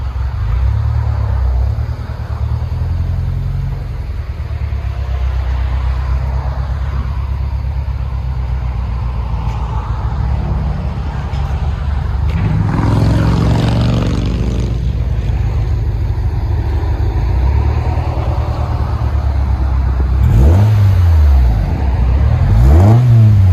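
A 1995 Honda Del Sol with a four-cylinder engine, five-speed gearbox and 1320 stainless steel muffler idles with a deep, loud, steady exhaust rumble, then revs sharply several times near the end, the pitch rising and falling with each blip.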